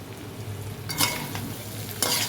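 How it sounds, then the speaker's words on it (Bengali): Cauliflower and potato stir-frying in oil in a pan for a vegetarian curry: a steady close sizzle with two brief scraping bursts of a spatula about a second apart, no voices. "ফুলকপি আলু দিয়ে নেড়ে চেড়ে নিয়ে এবার একটু ঢেকে দেবো, ঢেকে রাখবো, একটু কষানো হোক"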